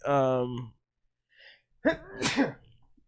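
A single sharp sneeze follows a drawn-out voiced breath, with a brief quiet gap between them and soft murmurs trailing after.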